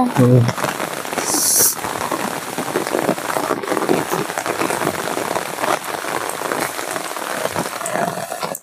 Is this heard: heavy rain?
yes